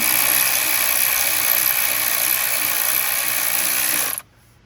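Ratchet wrench with a swivel tightening injection pump bolts on a 6.7 Cummins engine, a rapid close clicking of the pawl running steadily for about four seconds before stopping.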